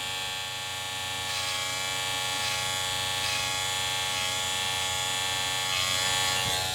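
Electric hair trimmers buzz in a steady, close, continuous hum with a dense bright whine throughout, used for a self-administered haircut line-up, with no voices.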